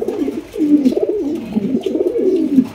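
A blue satinette pigeon cooing close by, a loud run of rolling, warbling coos repeated in quick succession with brief gaps, alone without talk.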